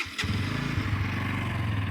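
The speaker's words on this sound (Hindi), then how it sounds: "बाइक को करते हैं स्टार्ट" A motorcycle engine catches after a brief starter crank and settles into a steady, low, throbbing idle, loud and close, with no talk over it.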